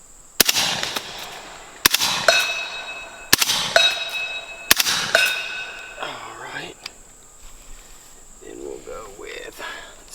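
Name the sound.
suppressed 300 Blackout rifle shots with subsonic ammo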